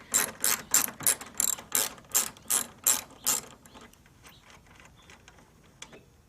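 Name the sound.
10mm socket ratchet removing headlight bolts on Kia Soul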